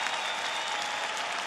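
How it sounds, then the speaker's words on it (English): Boxing fans in the arena applaud and cheer for Dejan Zlaticanin as he rises, a loud continuous roar of clapping from the crowd. "And now Zlaticanin will come up and the fans cheer him."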